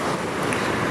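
Ocean surf rolling in at Calangute Beach in Goa, a continuous broad wash of breaking waves blended with wind rushing across the microphone, loud and steady, with no voices.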